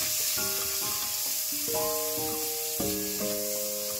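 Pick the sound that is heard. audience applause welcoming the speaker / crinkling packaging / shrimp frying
shrimp frying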